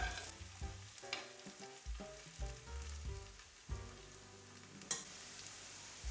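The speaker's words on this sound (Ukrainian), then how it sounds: "Продовжую смажити." Potato-zucchini pancakes sizzle and crackle in hot oil, with a few clinks and scrapes of a utensil in the pan, close by and without talk.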